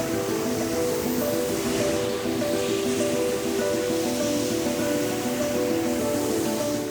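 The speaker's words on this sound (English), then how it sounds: "This hot, bubbling iron ore is in the midst of being transformed into strong, durable steel." Hot, bubbling iron ore being turned into steel in a steel plant makes a continuous roaring hiss over a steady industrial hum, holding an even level throughout.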